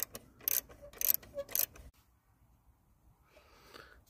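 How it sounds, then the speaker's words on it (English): A 12mm socket wrench ratchets in a quick series of close clicks while loosening the belt tensioner on a Subaru Impreza engine, then falls quiet, with faint handling noise after. "with a 12mm socket, we're just going to loosen the tensioner off"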